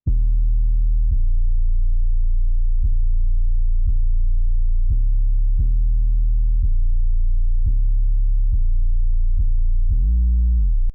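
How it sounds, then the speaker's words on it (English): A synth bass line of deep, smooth sine-like tones moves through a sequence of sustained notes with soft attacks, steady and alone, ending on a short wavering note. "And the bass line sounds like this."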